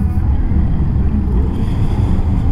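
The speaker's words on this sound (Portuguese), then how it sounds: "Nossa, tá ventando pra caramba" Steady, loud wind buffeting the microphone with a deep continuous rumble, no voices, sustained throughout.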